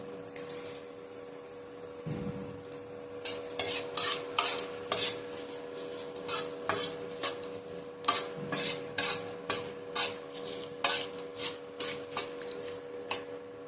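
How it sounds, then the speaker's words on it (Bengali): Bay leaf, cardamom, cinnamon, cloves and dried chilli fry in hot oil, a soft sizzle under rhythmic scraping and clinking of a spoon stirring in the pan. "তেজপাতা, এলাচ, দারচিনি, লবঙ্গ আর শুকনো লঙ্কা আমি দিয়ে দিচ্ছি"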